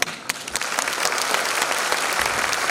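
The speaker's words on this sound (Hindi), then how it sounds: "ताली बज रहे हैं।" An audience claps steadily and fairly loudly throughout a 75th Republic Day celebration at Bundelkhand University, a dense patter of many hands with no speech over it.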